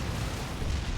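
A Baneblade tank destroyed by Tyranids in the strategy game Dawn of War 2: Retribution, a heavy rumbling explosion with sustained low booming and crackle throughout.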